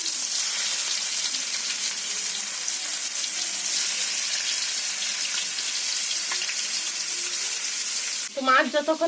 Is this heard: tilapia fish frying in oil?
yes